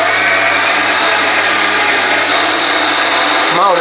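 A kitchen mixer grinder grinds dal for puran poli, a loud, close, steady motor whir that runs throughout and shifts pitch near the end.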